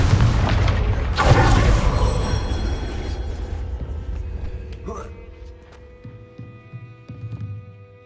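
A Confringo fire spell bursting in Hogwarts Legacy gameplay, a loud booming blast with a heavy low rumble that swells early and slowly fades into a hum, with game ambience and faint tones trailing underneath.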